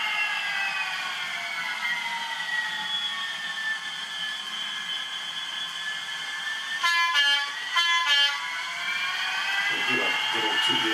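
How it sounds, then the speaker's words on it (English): Model train horn sounding on a layout, a sustained multi-tone horn with two short blasts near the end over a steady hum. "I'll sound the horn"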